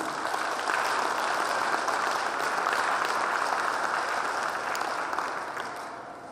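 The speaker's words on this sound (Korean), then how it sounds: "큰 한 박수 한번 부탁드립니다" Sustained audience applause fills a hall during an inauguration ceremony for a hometown association president, a dense, steady wash of many hands clapping for about six seconds before tapering slightly at the end.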